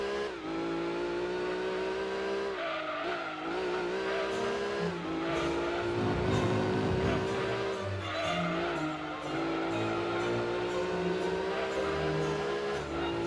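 A race car engine from Gran Turismo 2, running a steady high-pitched drone through an endurance race. It rises and falls with shifts and throttle changes, with brief tyre squeal and a low rumble partway through, loud and continuous with no talk.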